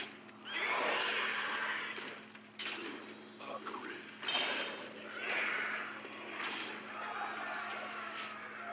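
Neighing horse sound effect in the Hearthstone card game: drawn-out whinnies rising and falling over a steady background hum, with a few sharper knocks.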